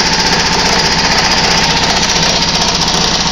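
A Fisher and Paykel Smart Drive washing machine motor runs on a test bench, giving a loud, steady, rough mechanical drone with a fast rattling pulse that holds constant throughout.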